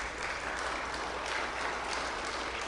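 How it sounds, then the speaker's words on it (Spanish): Audience applause in a church service, welcoming two visiting sisters: a steady, dense clapping that fills the room evenly for a few seconds with no break. "Un aplauso para ellas."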